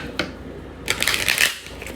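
Tarot cards being shuffled close up, a brief papery riffle followed by a louder flurry of rapid card flicks lasting about a second, with no talking.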